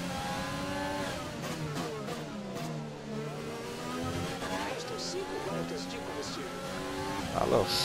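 In the F1 2020 video game, an F1 race car engine screams and shifts at the Azerbaijan circuit, with tire squeal and other cars nearby, under continuous excited commentary.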